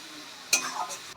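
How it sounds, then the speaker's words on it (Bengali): Ginger, garlic and green chilli paste is stirred in a pan while cooking for a fish egg curry, one quick scrape and a short sizzle after a quiet start, heard up close. "এটাকে দিয়ে আমি ভালো করে কষিয়ে নেব, যতক্ষণ না কাঁচা গন্ধটা চলে যাচ্ছে"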